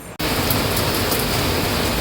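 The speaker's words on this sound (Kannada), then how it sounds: "ನಮ್ಮ ಗದಗೊಳಗೂ ಸಿಕ್ಕಾಪಟ್ಟೆ ಮಳೆ ತೋರಿಸ್ತೇನೆ ಬರ್ರಿ" Heavy rain pours down in Gadag, a steady, dense roar that starts abruptly and holds loud and unbroken throughout, with no voices.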